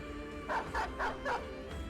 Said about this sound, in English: The dog is pulling back.